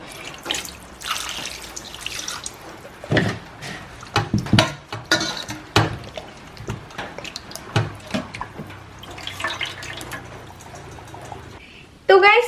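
Running tap water splashes and drips in a sink while a whole scored fish is rinsed by hand. Irregular, fairly close splashes and handling sounds come in uneven bursts, with a quick loud clatter at the end.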